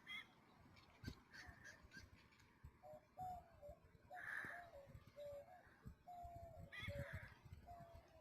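Pet goose honking in short bursts, several separate calls spread over several seconds with faint noises from nearby between them and a person talking softly in the background.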